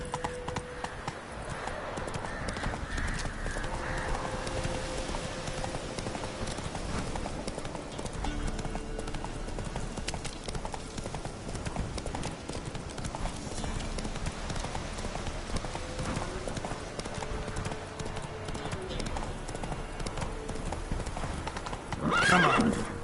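Roach the horse gallops in a video game, with continuous rapid hoofbeats throughout and a short neigh near the end; a voice is barely present.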